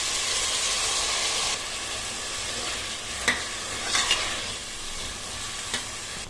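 Tomato and potato pieces frying in a pan, a steady close sizzle and hiss with a few sharp scraping clicks as the pieces are stirred.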